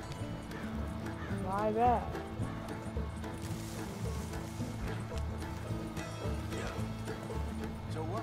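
Horses clip-clop along at a steady pace in Red Dead Redemption 2, with a brief whinny early on, under game dialogue and background music.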